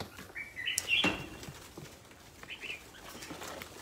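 A short flurry of bird wingbeats, close and brisk, followed by softer scattered flutters and faint chirps.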